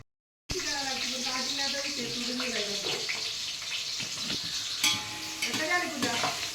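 Onion fries and sizzles in a pan as mutton is being prepared during a village fair, giving a continuous close frying hiss with stirring scrapes while voices talk over it.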